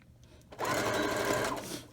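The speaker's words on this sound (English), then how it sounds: "Just put them right sides together and sew down the seam" A sewing machine stitches a gathered skirt seam, a steady close whirring run of about a second and a half that starts after a brief quiet moment.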